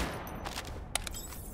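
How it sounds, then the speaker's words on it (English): A modified gun in the video game EVE Vanguard firing in short rapid bursts of sharp cracks, two clusters of shots over a quiet background hum. "Now, here's how the gun fires normally."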